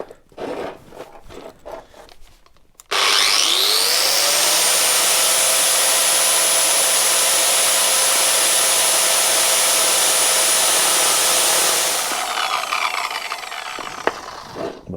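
Power grinder spinning against a part on a new 2025 KTM 300 EXC enduro motorcycle, a loud steady high-pitched whine held for about nine seconds, then easing off.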